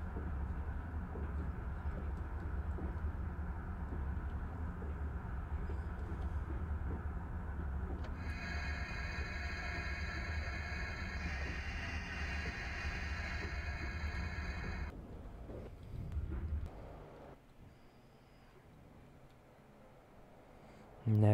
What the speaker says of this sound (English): And there we go, our Accelerator Express on the Amtrak.